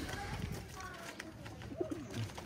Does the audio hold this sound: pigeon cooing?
yes